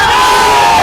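A dense protest crowd in Jaipur shouts in unison, a loud continuous roar of many voices without a break.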